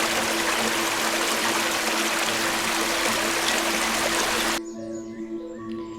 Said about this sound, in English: such as this water flowing over the rocks